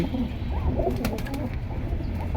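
Soft pigeon coos murmur steadily against a busy background hum at a pigeon seller's, with a few brief clicks and rustles.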